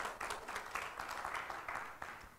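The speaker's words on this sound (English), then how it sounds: "give the Lord a hand clap" A congregation at a Shabbat service gives a hand clap, a fairly faint, steady patter of many hands in a room with no voices over it.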